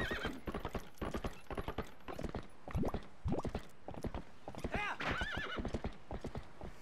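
Horse Epona in a Zelda video game, hooves clip-clopping in a steady rhythm with bright neighs and whinnies rising over them, fairly loud and close throughout, with someone talking briefly in the mix.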